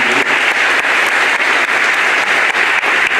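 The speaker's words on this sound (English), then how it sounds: "I'd like to give a big round of applause to the senior chief" Audience at a high school NJROTC change of command ceremony breaks into loud, continuous applause, a dense, close roar of clapping that holds steady throughout.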